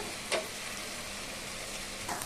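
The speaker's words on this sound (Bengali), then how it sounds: "আমি পোলাওটাকে সুন্দর করে পোলাও চালগুলি সুন্দর করে আমি ভেজে নেব" Polao rice grains frying in a pan give a steady soft sizzling hiss, with two brief scraping stirs near the start and end; no one talks.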